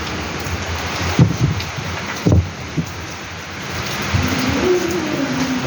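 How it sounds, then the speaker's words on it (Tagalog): Rain falls steadily outside a school, a constant hiss with a few sharp knocks and thumps over it and a low rumble building toward the end. "umuulan"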